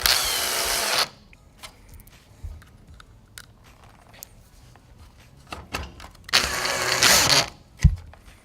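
A power drill whirs loudly as four screws are driven back in while fitting a grille onto a 2014-17 Toyota Tundra, two strong bursts at the start and near the end with quieter clicks and handling noise between.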